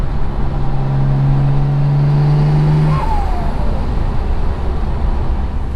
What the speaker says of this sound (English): these turbos sounded amazing. They sound even better now.